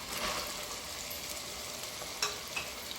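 Onions frying steadily in a pan in a curry preparation, giving a continuous moderate sizzle with a couple of brief crackling pops, close and without voices.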